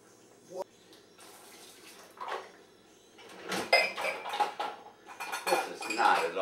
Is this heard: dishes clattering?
yes